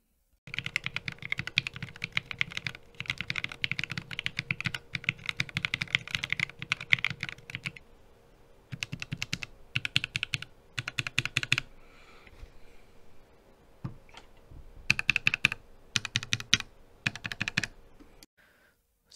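Keystrokes on Reviung41 and Corne split mechanical keyboards, both with plate-style cases, typed close up in rapid continuous bursts, then a short pause and several shorter runs of clacky presses, with no talking.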